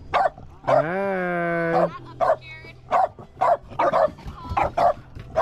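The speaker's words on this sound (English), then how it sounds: "I could hear him barking all the way over there." A dog barks in short repeated bursts, fairly close, with a sustained whine or tonal sound near the start and a brief spoken word among the barks.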